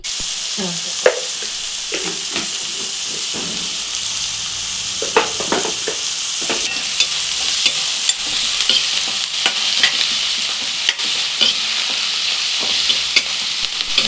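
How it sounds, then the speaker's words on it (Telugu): Onions fry and sizzle in hot oil with turmeric and salt while a spoon stirs them, giving a steady close hiss broken by scraping clicks against the pan. "ఆనియన్స్ తీసుకొచ్చి ఆయిల్లో వేయాలండి ఆనియన్స్లో పసుపు ఉప్పు అనేది ఇప్పుడు వేసుకుంటే ఆనియన్స్ అనేది బాగా మగ్గుతాయండి"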